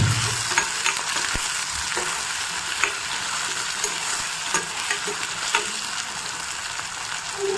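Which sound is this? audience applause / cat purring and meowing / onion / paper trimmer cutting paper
onion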